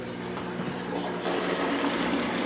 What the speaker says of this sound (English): Draining some more water.